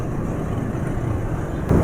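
Car engine idling smoothly after an oil change to Trust Miracle 831 10W40, a steady low hum close by with a slight bump in level near the end.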